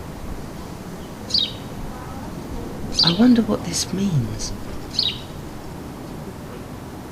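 A sparrow gives a few sparse chirps, three short calls spaced a couple of seconds apart, while someone speaks briefly in the middle.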